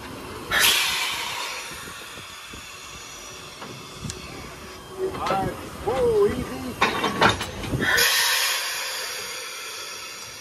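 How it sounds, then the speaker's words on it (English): Steam locomotive No. 126 uncoupling from its tourist train at a train museum: a loud hiss of steam bursts at the start and again near the end, with metallic clanks and squeals of the coupling in between. "Here we watch locomotive number 126 disconnect from her tourist train of the day"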